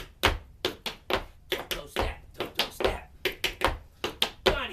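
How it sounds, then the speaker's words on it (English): Double toe tap dance step, the toe striking twice before stepping down, a steady run of sharp close taps in repeating clusters, alone without talk. "It's called the double toe because I hit my toe twice before I step down."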